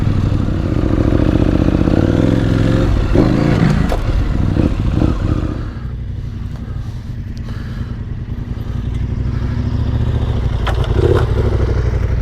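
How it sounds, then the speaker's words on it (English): Adventure motorcycle ridden over a ramp during enduro training, the engine droning loud and close with rising revs, clattering as the bike crosses the ramp, then settling into a steady lower rumble. "get the bike to come down nice and flat over it"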